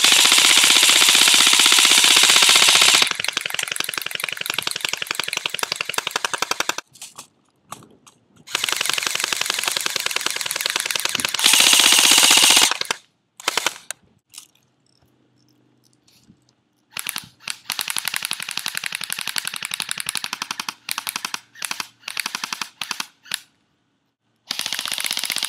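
Rapid bursts of airsoft gunfire rattle against an old hurricane radio, loud and close, in long sustained strings broken by short pauses and a quieter stretch.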